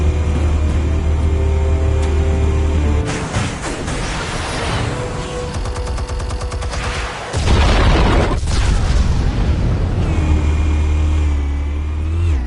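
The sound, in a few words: explosives detonating, from the video game Batman: The Telltale Series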